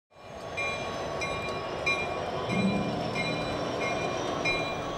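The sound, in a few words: train passing on railroad tracks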